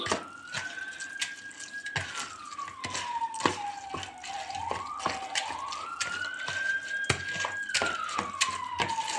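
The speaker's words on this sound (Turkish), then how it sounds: "Ambulans geçiyor." An ambulance siren wails with a slow rising and falling tone as it passes outside, steady and fairly prominent, over running water and clattering kitchen sounds while cooking stuffed peppers.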